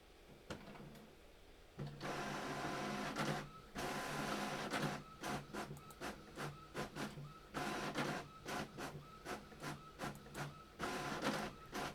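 Printer running through pages, a loud mechanical whir broken into repeated bursts with clicks and short pauses as each sheet feeds, heard close up with no talking.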